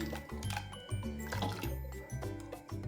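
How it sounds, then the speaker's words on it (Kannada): Water is poured into a pot of bottle gourd sambar as it cooks, a soft, close gurgle and splash of liquid filling, quiet and continuous. "ಸ್ವಲ್ಪ ನೀರು ಹಾಕ್ತಾ ಇದ್ದೀನಿ"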